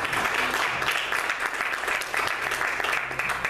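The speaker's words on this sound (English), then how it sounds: "give another round of applause for the musicians that came out this Sunday" A church congregation applauds the musicians at an Easter Sunday service, with dense, steady clapping from many hands that carries on throughout at a fairly loud level.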